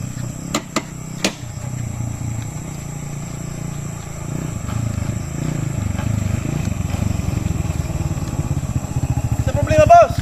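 A motorcycle on a roadside, its engine rumbling low and steady nearby, then growing louder and revving toward the end as it draws closer, with a few sharp knocks early on and voices around it.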